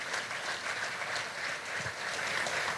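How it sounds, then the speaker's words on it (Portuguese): A church congregation applauds, a dense and even wash of many hands clapping at once, steady and somewhat distant, with no voices heard above it. "pode aplaudir a Jesus."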